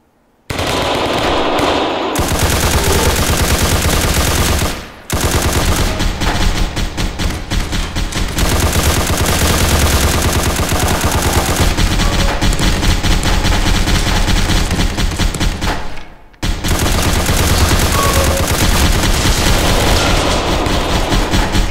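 Sustained, loud machine-gun fire with live bolt shells in the war video game War Sim, rapid bursts rattling almost continuously for about twenty seconds with two brief pauses, no talking.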